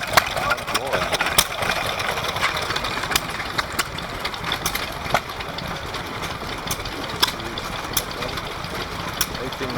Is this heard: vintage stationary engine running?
yes